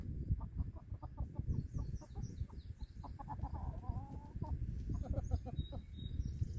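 Backyard chickens cluck in repeated short bursts, close and fairly clear, over a rumbling outdoor background with occasional higher bird calls.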